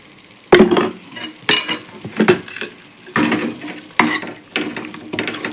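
A spoon stirring sambar with homemade masala powder in a pot, a series of close scraping, clinking strokes with short pauses between them.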